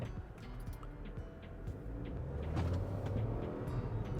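Mahindra XUV 3XO AX7L turbo-petrol automatic pulling away under acceleration, a steady low engine and road rumble swelling slightly louder toward the end, heard from inside the cabin with no talk.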